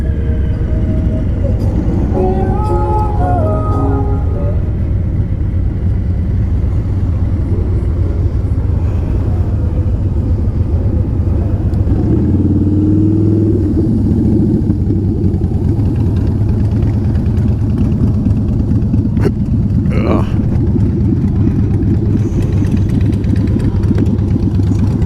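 Motorcycles idle and rumble along a bar strip at Geneva on the Lake, a steady low engine drone running the whole time with occasional revs, while someone talks over it in places.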